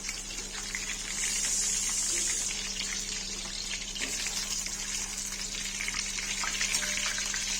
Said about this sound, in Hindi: फ्राई हो जाएगा तो बैगन फ्राई करेंगे।